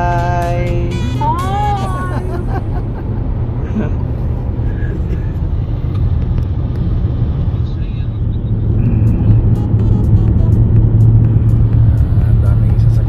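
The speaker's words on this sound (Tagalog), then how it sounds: "Ang daming sasakyan." Road traffic rolls past continuously during a desert safari trip, a loud, steady rumble of many vehicles that swells slightly toward the end, with a brief voice near the start.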